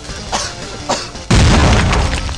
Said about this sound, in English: Anthony, that thing's gonna explode!